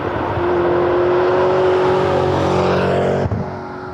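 A McLaren MP4-12C prototype runs on the Valencia test track in Spain, its engine loud and close in a sustained drone that shifts in pitch as it passes, then fades away, with no voices.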